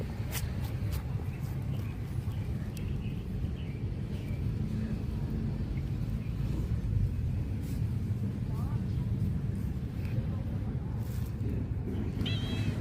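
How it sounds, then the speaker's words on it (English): A kitten meows a few times, faint and high, over steady outdoor background noise and distant traffic rumble in Siem Reap, Cambodia. "I found a little kitty, kitty, kitty."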